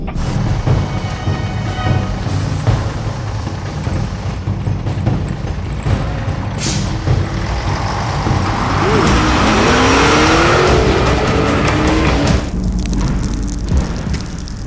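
Race cars drive on a track, a loud, continuous engine roar with a rising whine from a car passing close midway, and a brief tire squeal, no talking.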